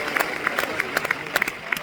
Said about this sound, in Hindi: अनिल के लिए ताली होनी चाहिए जोरदार